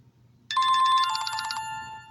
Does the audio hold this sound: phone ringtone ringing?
yes